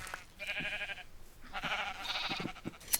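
Sheep bleating in Minecraft, two or three short, fairly faint bleats in succession, with no talk over them.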